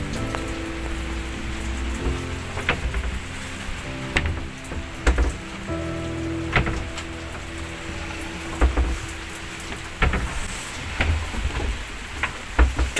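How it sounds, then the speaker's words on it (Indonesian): Steady rain pattering on a fishing boat at sea, with scattered louder drops and a constant low engine hum underneath, no voices. "apalagi di luar ini hujan."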